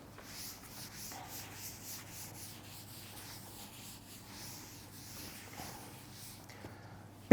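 Soft, steady rubbing as writing is erased from a board, a faint swishing stroke repeated in an even rhythm over a low room hum, ending with a sudden sharp knock.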